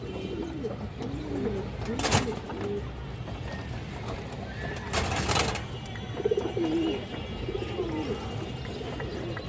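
Several pigeons coo in soft, repeated rolling phrases at a pigeon farm, fairly close, with a couple of sharp rustling bursts between calls and quiet ambient noise.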